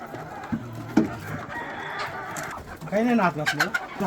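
Chickens cluck and squawk nearby in short, busy bursts, with a louder flurry of calls toward the end.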